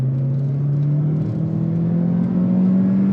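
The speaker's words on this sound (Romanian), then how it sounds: "Și motorul destul de simpatic așa. Are o tonalitate deloc deranjantă." A Mazda CX-30 petrol engine with a manual gearbox accelerates in a steady, continuous low drone whose pitch climbs slightly. It is heard from inside the car, moderately loud, and no one speaks over it.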